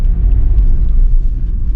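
A 2021 Toyota 4Runner given a little gas around a corner on 3-4 inches of snow, its engine a loud, close, low rumble that holds steady for under two seconds.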